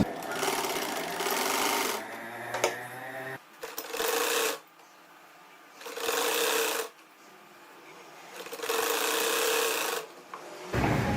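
Sewing machine stitching the side seam of a kurti, repeated bursts of rapid mechanical whirring lasting one to two seconds each, separated by short pauses.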